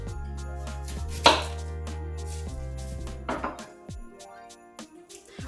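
A medium-sized onion is chopped on a board, a few distinct knife strikes with one loud close chop, over a low steady hum and some kitchen clatter.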